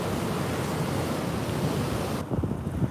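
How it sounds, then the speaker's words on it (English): Steady roar of Hurricane Dorian's wind and crashing surf at Flagler Beach Pier, loud and close, with gusts buffeting the microphone; the rush drops and becomes choppier near the end. "Just the wind, the wave."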